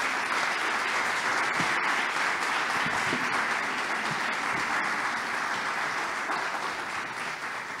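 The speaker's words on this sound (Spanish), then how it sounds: "Despidámoslos con un aplauso para despedir a Alberto" Audience at a business school launch event claps to send off a speaker named Alberto, full sustained applause from a large room that holds steady and then eases slightly toward the end.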